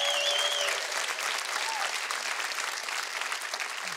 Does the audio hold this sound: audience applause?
yes